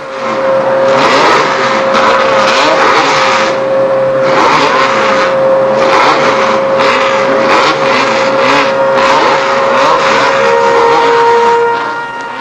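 Formula Renault single-seater race cars at Le Castellet in 1970 roar past in a loud, continuous pack, engines revving and shifting as several cars blend into a dense, sustained racing din.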